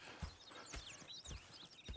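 Horse hooves clip-clop in an unhurried walking rhythm in the Red Dead Redemption 2 video game, about four clear hoof strikes over a steady low ambient bed, with no talking.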